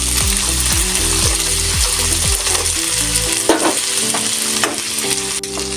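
Potatoes and raw chickpeas with salt sizzle loudly in a pan while being stirred, with a steady close frying hiss and repeated scraping and clacking of a utensil against the pan.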